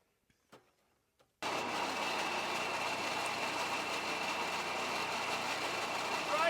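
A 220-volt pellet mill for grass and cat food starts up after a few quiet knocks, then runs as a loud, steady mechanical drone and whine that holds constant.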